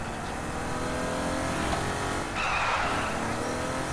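A car drives and skids in the Saints Row The Third video game, with a tiger riding in the passenger seat. A steady engine drone runs throughout, and a sharp tire screech rises midway and then fades.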